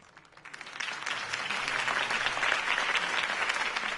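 A crowd applauds after a campaign speech by Harvey Dent, clapping swelling up from quiet within the first second into sustained, moderately distant applause, with a faint murmur of voices underneath.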